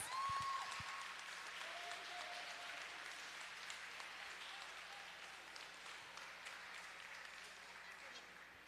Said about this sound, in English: So I would like for everybody to give them a round of applause.